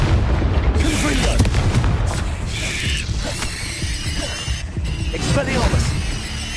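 A blasting-spell explosion in a video game erupts in loud, dense booms and crackling debris, with rumbling impacts continuing throughout under a spoken voice.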